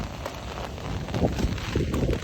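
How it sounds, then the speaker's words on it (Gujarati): Rain patters steadily on nearby surfaces during a summer storm, fields flooding, with scattered louder drops building toward the end. "હજી ચાલુ છે વરસાદ, ખેતરોમાં પાણી ભરાઈ ગયો"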